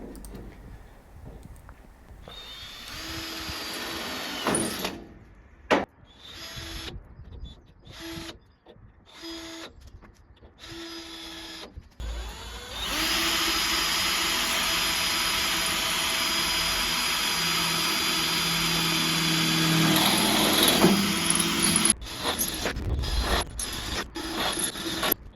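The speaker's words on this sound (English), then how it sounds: "drilling through each upright, ready to screw from the back into the battens" A power drill bores through the wooden frame uprights of a DIY cold tub, whirring in short, stop-start bursts before settling into one long, steady, loud run of drilling, then a few more brief spurts.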